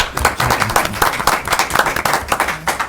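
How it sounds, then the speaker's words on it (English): Board members applaud at a town board meeting, a close, fairly loud round of clapping with uneven, rapid hand strikes lasting several seconds and no talking over it. "As board, we applaud you."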